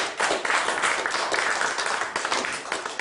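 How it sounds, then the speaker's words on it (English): A live audience at a comedy mind-reading show breaks into applause, a dense, steady wash of many hands clapping for about three seconds. "Give him a round of applause."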